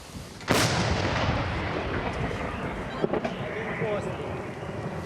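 A single blast from an M-46 field gun booms out sharply, followed by a long rumbling decay with faint background voices and noise.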